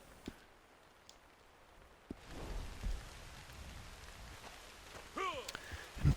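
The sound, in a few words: rain in the video game Red Dead Online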